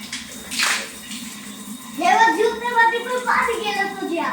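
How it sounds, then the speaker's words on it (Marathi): A child splashes and plays with bathwater during a bath, giving bright splashy bursts near the start and again later, with an adult and someone talking over much of it. "तर आंघोळ करत असताना पहा इतका खेळ चलतो ना खूपच."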